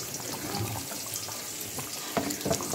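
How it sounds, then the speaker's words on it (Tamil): Water runs and splashes into a bowl as it is rinsed while Chettinad chicken curry cooks, a short uneven trickle with a couple of sharper splashes near the end. "கொஞ்சம் அதே பாத்திரத்தை அந்த பவுலில் நல்லா வாஷ் பண்ணி கொஞ்சம் தண்ணி விட்டுக்கிறேன்"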